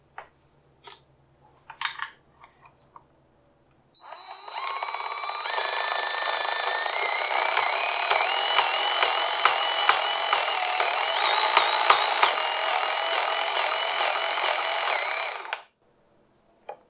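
A DeWALT 20V Max cordless grease gun runs with a whining motor hum for about eleven seconds, close and steady, then cuts off. A few faint clicks and handling sounds come before it starts.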